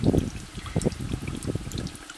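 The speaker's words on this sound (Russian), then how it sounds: "Бурлит вода." Water bubbling as it boils in a pot for sugar syrup to feed bees, a close, irregular burble of pops and gurgles with no talk.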